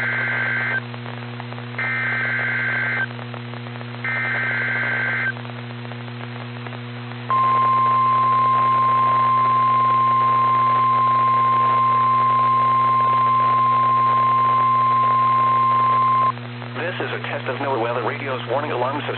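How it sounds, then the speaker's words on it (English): Broadcast EAS attention signal for a NOAA Weather Radio tornado drill: three short repeated two-tone beeps, then a long sustained steady tone lasting about nine seconds, followed by a voice speaking over a radio hum. "The attention signals you just heard will automatically activate special receivers to warn of the impending hazard."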